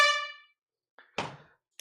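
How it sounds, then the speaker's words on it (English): A short air horn sound effect blasts loud and alone for about half a second at a live Black Friday vinyl record sale, then fades, followed by a couple of faint clatters. "We'll do a quick air horn"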